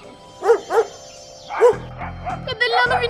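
A dog barks a few times in short, sharp bursts near girls who are scared of it outdoors, loud and close, with voices and other noise around.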